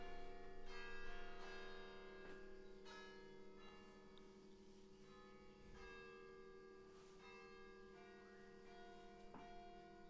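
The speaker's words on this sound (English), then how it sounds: "sorry for the bell tower is ringing" Church bells ring repeatedly from a distance, their long resonant tones overlapping and sustaining in a slow, steady peal.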